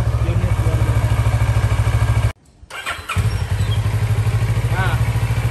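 A Kawasaki ER-6F sport motorcycle with a parallel-twin engine runs loud and close, a fast pulsing throb that cuts out briefly, then resumes with a short rev and a light clatter.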